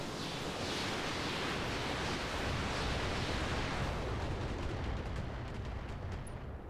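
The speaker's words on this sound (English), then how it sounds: "Targeting the head, just gonna fire." Mech weapons firing in the game RogueTech during a heavy lance battle, a dense roaring barrage of booming blasts and rumble that fills the whole stretch, loud and continuous with no voices.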